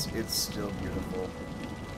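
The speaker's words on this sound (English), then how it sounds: "Just rain and lightning." Rain and thunderstorm weather in Cities: Skylines, a steady wash of rainfall across the whole stretch with a brief brighter burst near the start, while a voice speaks briefly over it.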